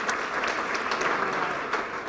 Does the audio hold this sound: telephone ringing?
no